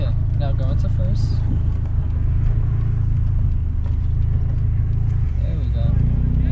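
A manual-transmission car pulls away in first gear with a steady low engine rumble heard from inside the cabin, as people talk over the engine throughout.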